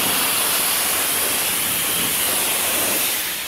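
A steady, close spray of cleaner in a car engine bay, hissing continuously for several seconds, broadband and even, fading slightly at the end.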